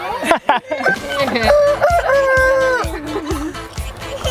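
Several roosters crow loudly and close together, overlapping calls with clucking and farmyard noise around them.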